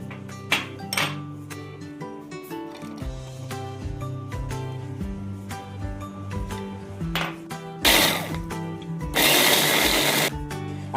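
An electric chopper whirs in two short bursts near the end, chopping ginger, green chili, garlic and shallots, with steady background music throughout.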